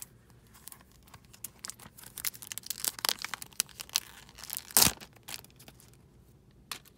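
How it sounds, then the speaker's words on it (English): Crinkling and tearing of plastic shrink wrap peeled off a Pikmin 3 Deluxe Nintendo Switch game box, close and irregular, with scattered crackles and one louder rip partway through. "I love that sound when you unwrap a new item."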